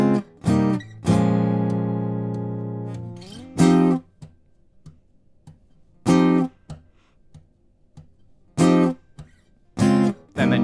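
Chords from a song strummed on a guitar, a long ringing chord followed by short choppy stabs in a syncopated rhythm with gaps of silence, close and clear.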